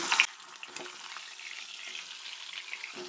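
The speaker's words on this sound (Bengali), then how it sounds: "তেলটা ভালো গরম হয়ে গেছে মাছের মাথাগুলো লাল করে ভেজে নেব" Rohu fish heads frying in hot mustard oil, a continuous soft crackling sizzle close by, opened by a brief loud burst of hissing as they drop in, no voices.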